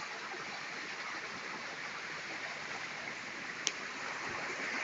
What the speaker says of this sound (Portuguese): Tá vendo o barulhinho? Tem água aqui.